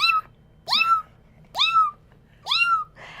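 A person imitates a kitten's meow to call a mother cat, making four drawn-out, rising-then-falling mews at steady intervals, close and clear with quiet pauses between.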